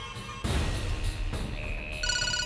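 A phone rings with electronic tones after a couple of thumping bangs, the ringtone's steady pitched pattern coming in near the end.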